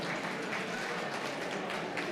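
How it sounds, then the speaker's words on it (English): Audience applause at the Buffalo Niagara Waterkeeper 35th anniversary evening event, a steady, soft wash of many hands clapping heard from a distance. "A round of applause."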